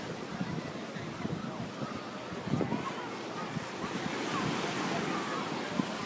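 Ocean waves wash in a steady, continuous roar mixed with gusting wind noise on the microphone, the surf swelling slightly louder toward the end.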